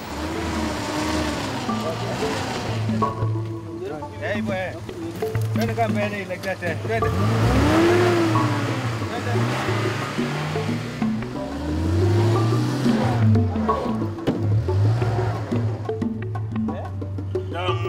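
An off-road truck drives over sandy safari terrain away from the main track, its engine revving and straining in rising and falling surges, with people talking over it throughout.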